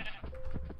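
Sheep in the Minecraft video game giving a short bleat, a brief wavering mid-pitched call, quiet and alone.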